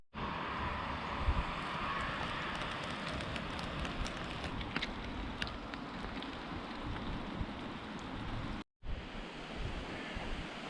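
Steady, dense hiss of rain falling, loud and continuous with a gusty wind edge, cutting out briefly near the end before resuming.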